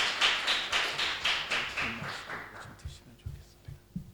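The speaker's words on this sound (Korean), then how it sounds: "우리 또 박수로 환영해 주시면" A church congregation claps to welcome the pastor at a Sunday worship service at Prague Bethel Church. The dense clapping is loudest at the start and thins out over a few seconds, followed by scattered taps and a low voice.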